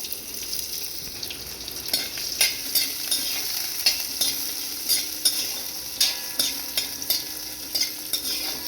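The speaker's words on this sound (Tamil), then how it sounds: "வெங்காயம் இந்த மாதிரி ஒரு நிமிஷம் வதக்கி விட்டுக்கலாம்" Chopped onion with dried chilli sautés in a pan, a steady close sizzle broken by regular spoon scrapes and stirring clinks every half second or so, with no talking.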